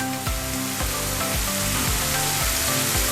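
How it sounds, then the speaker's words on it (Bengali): Spice masala frying in hot oil for a Bengali amodi chicken dish, a loud, steady sizzle broken by a regular series of scraping stirring strokes, close up with no talking. "মশলাটা দিলাম, এবার এটা একটু ভাজা ভাজা করে নেব"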